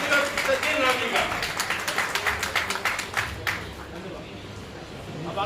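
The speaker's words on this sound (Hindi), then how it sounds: "जोरदार तालियों से स्वागत किया जाए" Applause from an audience welcoming a government minister at a public event in India, a steady wash of many hands clapping that fades slightly toward the end, with crowd murmur underneath.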